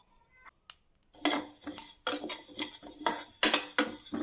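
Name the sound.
dry roasting fenugreek, cumin and fennel seeds in a pan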